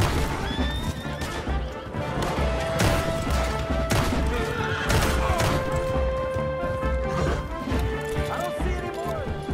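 Horse repeatedly neighing and whinnying in the video game Red Dead Redemption 2, loud and close, with clip-clop hooves, crashes and gunfire-like bursts in a busy game mix throughout.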